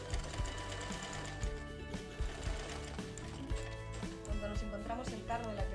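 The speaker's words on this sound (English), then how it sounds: "So now we go to the sewing machine. We start to sew" A sewing machine runs in quick mechanical bursts, tacking fabric for a purse with a rapid rattling rhythm while a person talks over it.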